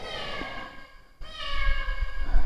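A cat meows twice, a drawn-out cry followed by another after a short pause, with some low rumbling noise underneath.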